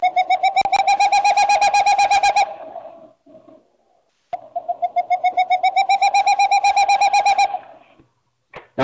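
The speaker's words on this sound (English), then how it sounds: "that's what a boreal owl sounds like" Recorded boreal owl call played back through speakers: two long bursts of rapid, evenly spaced hollow hoots or toots, each lasting a couple of seconds, separated by a short pause, clear and fairly loud with no talking.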